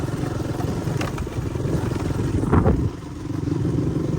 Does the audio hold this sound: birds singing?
no